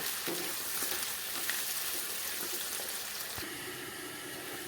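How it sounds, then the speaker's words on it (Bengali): Tomatoes and fenugreek seeds frying in a pan, a steady close sizzle with intermittent scraping and stirring knocks, no talking. "এটাকে কিছু সময় নাড়াচাড়া করে ভাজা করব"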